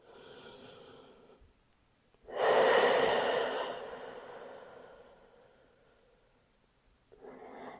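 A deep, slow breath taken at the close of a Pilates class: a broad rushing inhale swells loudly mid-clip, then fades over a couple of seconds, with soft room hush before and a fainter breath starting at the end.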